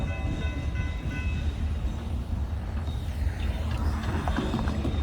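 A DeQueen and Eastern GP40-2 diesel locomotive train rumbles past a crossing near Valiant, Oklahoma, heavy continuous rolling and engine drone with faint ringing tones, close and steady throughout.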